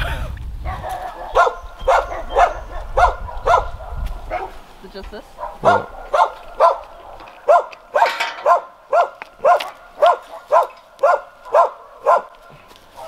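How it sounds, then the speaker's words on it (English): Dogs bark repeatedly in a fast, regular series of sharp yaps, fairly close, with a few brief spoken words near the start. "the neighbor's dogs are gonna be barking like crazy"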